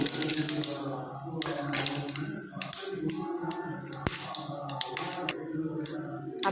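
Rapid irregular crackling and popping of mustard seeds frying in hot oil, a dense sizzle with sharp snaps scattered throughout.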